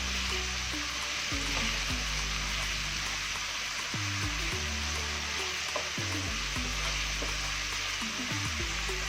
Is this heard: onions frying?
yes